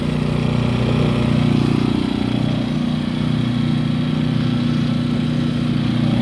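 Predator 3500 and iPower 2000i inverter generators running side by side, a steady, loud, even engine hum with no pauses and no talking.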